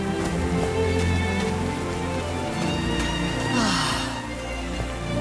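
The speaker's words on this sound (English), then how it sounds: "These drops of rain are so refreshing" Rain falls steadily on a mountain top in the Call of the Sea video game, a dense, continuous patter over a low game ambience with faint melodic tones, no voices.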